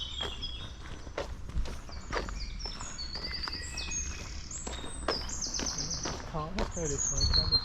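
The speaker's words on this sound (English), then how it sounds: "Oh, there's plenty of birds by the sound of it." Several birds chirp and sing all around in Hinchingbrooke Country Park, high bright calls scattered over soft footsteps and faint outdoor background.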